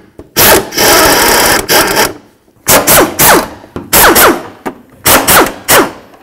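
A power tool zips out radiator mounting bolts on a Chevy S-10 pickup in a repair shop: several loud, close bursts of whirring, each a second or so, separated by short pauses, with no talking.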